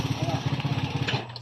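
Euro Daang Hari 150 motorcycle idling after being started, with a rapid, even, low engine putter close by, and someone talking over it.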